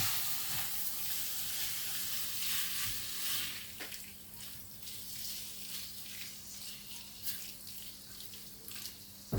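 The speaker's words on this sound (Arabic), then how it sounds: "هنضيف الطماطم وهديها تقليبه، والبطاطس نقلب بقى ده كده كله مع بعض" Potatoes, onion and tomatoes fry together in a pan for Egyptian eggah, a soft steady hiss with a few light stirring scrapes, fairly quiet and without speech.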